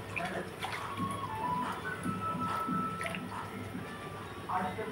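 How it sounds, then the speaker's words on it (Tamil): Water being poured into a pot of egg curry on the stove, a steady splashing and trickling stream with faint drips, heard under a person talking. "தேவையான அளவு தண்ணி ஊற்றிக்கலாம்."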